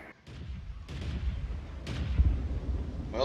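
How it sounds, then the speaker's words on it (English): Artillery shell striking a tank in a World of Tanks clan-wars battle, a couple of sharp distant booms with rumbling tails over steady game ambience. "So I take it you got arty, Jace? Something hit me for 600, so probably"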